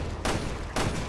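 Two loud, sharp Magnum revolver shots in Resident Evil Revelations 2, spaced about half a second apart, each with a short reverberant tail.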